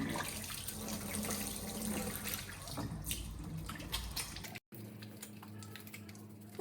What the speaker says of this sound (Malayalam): നമുക്ക് രാവിലെ ഫേസ് വാഷ് ഇട്ട് മുഖം കഴുകാം